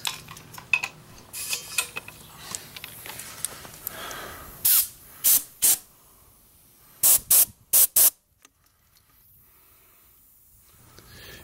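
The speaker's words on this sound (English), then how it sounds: "I'm going to use compressed air to make sure there is nothing in it, and we blow that thing out a little bit." Compressed air blasts out a small generator engine's carburetor in a series of short, sharp hissing bursts, two to three at a time with pauses between, following some quieter handling clatter.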